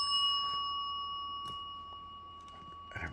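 A bell autographed at a comic convention rings with a clear, sustained metallic tone that lingers quietly and fades slowly against a faint room hiss, with no talking.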